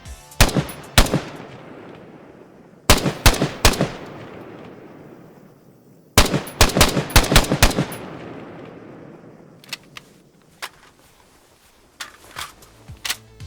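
Gunfire from an H&K MSG-90 rifle, a lighter, more rugged military alternative to the PSG-1, in a video game: loud, close bursts of sharp shots in clusters with ringing tails, then quieter mechanical clicks and handling sounds.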